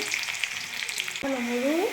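Onions frying in a pan for eggplant fry give a continuous close sizzle, joined halfway through by a sustained rising whine over the hiss.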